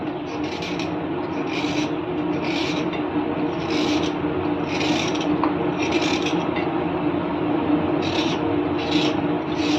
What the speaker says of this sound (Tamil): இதை நம்ம சேவிக்கலாம் அப்படியே தோல் நீக்கிக்கலாம்